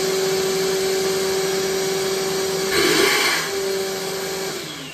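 A Ryobi PCL735B 6-gallon wet/dry shop vacuum runs on its high setting, a loud, steady motor whine with a constant rushing airflow that surges briefly midway, then settles.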